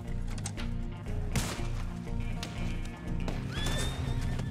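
Horse in the Red Dead Online video game, giving one brief whinny near the end over steady clip-clop hoofbeats and dense game sound.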